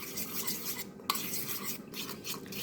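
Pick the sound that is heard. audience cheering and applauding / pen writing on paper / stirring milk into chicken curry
stirring milk into chicken curry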